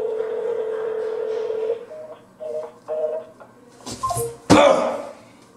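A phone dials out to call a grandmother: a steady tone gives way to a few short beeps in a row, and then a burst of noise and a voice follow close by.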